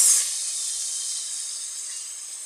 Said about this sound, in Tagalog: lalagyan ko na po siya ng patis. Igisa natin siya ng patis.